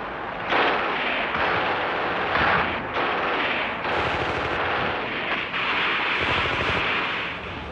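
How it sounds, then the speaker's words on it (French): Enemy machine gun fire during the Second World War liberation fighting in France, heard as a sustained, loud, dense crackle of rapid bursts that continues almost without pause throughout. "Parfois, une mitrailleuse ennemie vient interrompre la progression."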